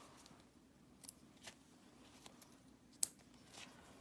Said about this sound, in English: Trim those excess threads.